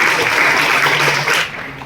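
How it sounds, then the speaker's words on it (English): A lecture audience claps together in a brief burst of applause that fades out quickly. "Please have a big round of applause for him."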